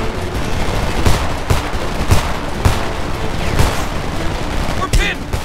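Enemy machine gun fire in the shooter game Homefront, a continuous rattling barrage with sharper louder bursts at regular intervals and a faint voice beneath.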